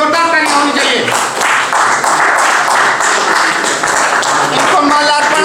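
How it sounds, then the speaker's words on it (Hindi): An audience applauds a young gold medalist at an award ceremony for journalists and social workers, sustained dense clapping filling the whole stretch at close, even loudness. "जोरदार तालियां होनी चाहिए"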